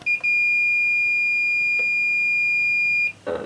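A multimeter on continuity test, probing parts inside a Yamaha RX-550 receiver under repair, gives one loud, sustained high-pitched tone lasting about three seconds, with a short click just before and just after.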